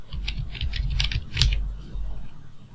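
Typing on a computer keyboard while making a Photoshop text effect: a quick run of close, crisp key clicks in an uneven rhythm over a low room hum, fading out after about a second and a half.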